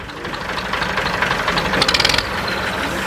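A tractor engine runs steadily at a farmers' protest, a loud, close diesel rumble with a brief burst of rapid knocking partway through.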